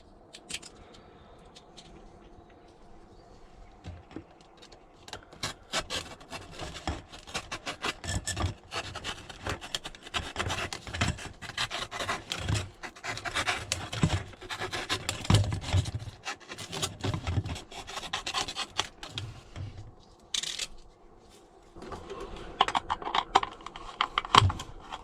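Hacksaw cutting a small buffer piece from convoluted aluminium pipe for a van heater, a steady rasping back-and-forth scrape building in loudness, with brief pauses between bursts of strokes.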